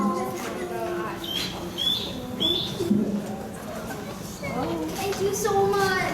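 Toy birds give chirps and cooing calls in short scattered bursts, with several sounding at once, while people talk over them.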